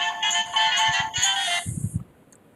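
A mobile phone ringtone plays as a bright electronic melody for under two seconds, then cuts off, leaving a faint room with soft knocks.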